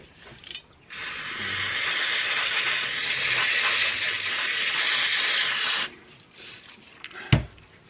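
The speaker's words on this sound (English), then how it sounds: "Okay, so we've got some carb cleaner." Carb cleaner sprays onto the carburettor of a 1967 BSA A65 Lightning motorcycle in one continuous hiss of about five seconds, close up, with a few small clicks before and a sharp knock after.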